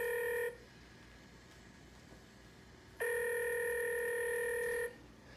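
A telephone placing a call, giving two long electronic tones separated by a pause, clear and alone with no voices.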